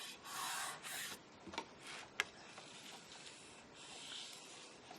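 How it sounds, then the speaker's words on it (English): A bone folder is rubbed across a paper photo album in several soft, scraping strokes, quiet and close, separated by brief pauses and one sharp tap. "That will keep it where I can burnish it."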